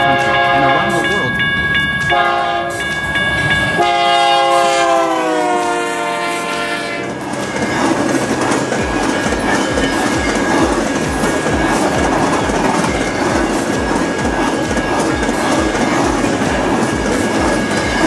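A container train passes on the railway, opening with a sustained horn blast, then a long loud run of rhythmic clickety-clack wheels and steady rumble close by, with faint wheel squeal.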